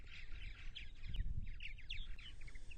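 Purple martins at their nesting colony on eastern Long Island, New York, give a run of rapid chirping, gurgling calls that overlap continuously at a moderate distance over a low background rumble.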